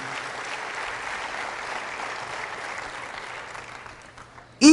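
A church congregation claps loudly for Jesus during a Catholic priest's sermon, a dense, even wash of applause that holds steady before a sudden sharp burst right at the end.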